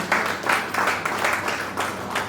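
An audience claps at an annual literary felicitation ceremony, the applause moderate and somewhat distant, rising and falling in a few loose waves over two seconds.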